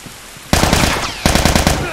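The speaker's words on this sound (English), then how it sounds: "He's shooting at nothing." Gunfire in The Last of Us Remastered: two loud rapid bursts of automatic fire, one after a quiet half-second and another after a short pause, each with dense repeated shots.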